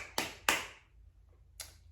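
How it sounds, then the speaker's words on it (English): Three small hand claps from a toddler in a quiet room: two quick, crisp slaps close together, then a softer third clap after a pause of about a second. "Can you clap 3 times?"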